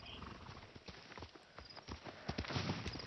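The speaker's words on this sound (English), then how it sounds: "Horse!" A horse's hooves clip-clop at a steady walking pace in the video game Ghost of Tsushima, moderately close, with faint ambient sound behind and no talking.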